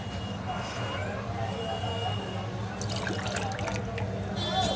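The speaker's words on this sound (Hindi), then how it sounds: "3 गिलास चावल लिया था तो 3 गिलास हमें पानी भी डालना है" Water is poured into a pot of soaked masoor dal and rice, making a liquid splashing and trickling sound over a low background hum, with a few brighter splashes toward the end.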